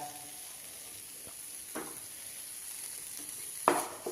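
Potato masala with coriander leaves sizzles in a pan for aloo paratha, a steady soft frying hiss broken by a few sharp scrapes and clinks as a spoon stirs it up close.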